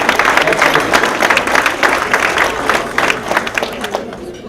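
Audience applause fills a room at a school district retirement lunch, a steady wash of many hands clapping that holds evenly for several seconds before easing slightly.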